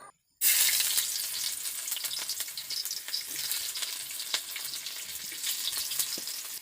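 Onions sizzle and fry steadily in a hot pan while cooking a jatilao dish, a continuous close, fairly loud crackle with occasional stirring clatter and no talking.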